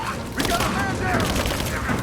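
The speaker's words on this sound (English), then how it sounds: "I'm taking fire!" Rapid gunfire rattles in the Rise of the Tomb Raider video game during a firefight, loud and dense, with a voice shouting over the shooting.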